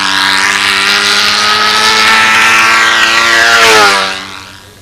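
A model P-51 Mustang's engine screams at wide-open throttle, a loud, harmonic buzzing drone that holds steady and then swoops down in pitch and fades as the plane passes by.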